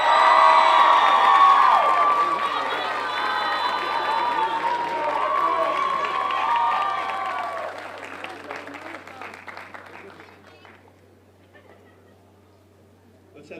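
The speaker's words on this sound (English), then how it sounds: "Let's have a big round of applause for the class of" Applause and cheering for a graduating class at a 2025 Gilbert high school graduation ceremony, a large crowd clapping loudly with shouts and whoops, then slowly fading toward quiet.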